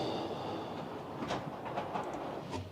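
A video game train runs along its track with a soft, continuous rumble and faint clicking wheel sounds, heard quietly and alone.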